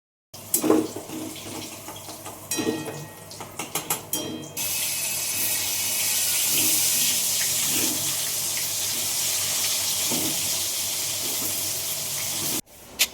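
Tap water runs into a kitchen sink while spice containers are washed, a steady rushing stream that starts after a few scattered clinks and handling noises and carries on alone until it stops abruptly near the end.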